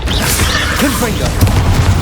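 Confringo spell explosion in Hogwarts Legacy, a booming fiery burst amid loud, busy combat effects, heard under a shouting voice.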